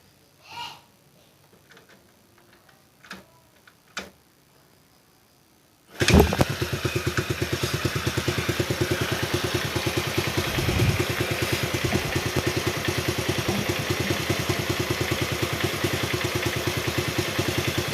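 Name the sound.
Honda C70 motorcycle kick-started, engine idling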